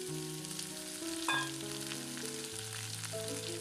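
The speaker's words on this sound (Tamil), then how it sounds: "அது நல்லா காஞ்சிட்டு கடுகு, உளுத்தம் பருப்பு, வரமிளகா தாளிச்சுக்கலாம்" Cut broad beans sizzle in hot oil with a tempering of mustard seeds, urad dal and dried red chillies, a soft steady crackle under louder background music, with a brief clatter partway through.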